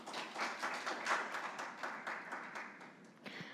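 Faint audience applause at a Korean youth policy forum in Incheon, a steady patter of many hands clapping from a distance, lasting a few seconds.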